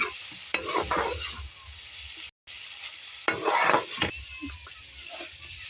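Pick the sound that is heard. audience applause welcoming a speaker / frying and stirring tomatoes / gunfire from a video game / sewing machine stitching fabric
frying and stirring tomatoes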